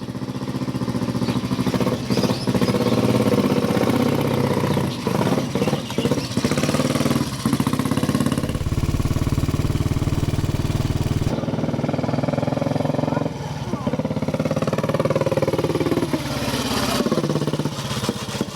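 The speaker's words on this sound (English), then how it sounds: "Let's watch Sammy Miller on board the lovely FN XIII 350." A 1947 FN XIII 350 motorcycle being ridden, its single engine thumping steadily and close with repeated throttle changes and revs rising and falling throughout.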